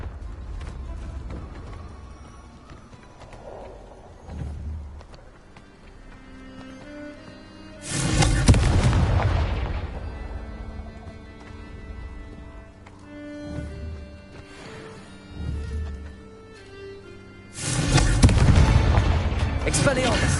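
Booming blasts from the Confringo spell in the Hogwarts Legacy game, two big loud bursts several seconds apart with smaller thuds between, over background game sounds.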